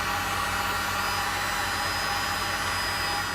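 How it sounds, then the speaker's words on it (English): A heat gun blows steadily, warming brown glue on the grate bosses of a Yamaha GP1800. It gives a continuous, loud, even whooshing roar from start to finish. "we take a heat gun and heat up the brown glue that's in there"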